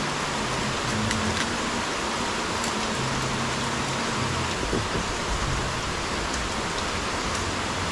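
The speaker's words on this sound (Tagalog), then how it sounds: "grabe ang lakas ng ulan" Heavy rain pours down steadily and loudly, a dense continuous hiss of drops hammering a surface with no break across the whole stretch.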